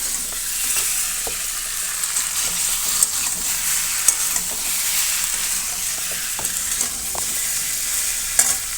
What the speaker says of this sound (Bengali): কচুরমুখী দিয়ে দিলাম, এখন এই যে কষাচ্ছি।